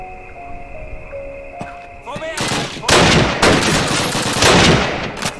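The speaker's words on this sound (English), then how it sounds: "To take out the bloody machine guns!" Rapid gunfire bursts in Call of Duty: United Offensive, a World War II shooter set at a train bridge; loud, dense volleys of machine gun fire start abruptly after a quieter lead-in and continue in clustered bursts.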